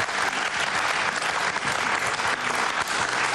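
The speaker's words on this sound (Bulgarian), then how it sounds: "Аплодисменти, намерила си е работа." A television game show studio audience applauds, with steady, dense clapping from many hands throughout and no break.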